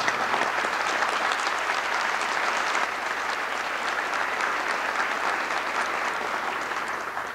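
A large audience at a 1989 peace chapel dedication convocation claps steadily in sustained, even applause, a broad, continuous patter that holds strong throughout and eases off only slightly near the end.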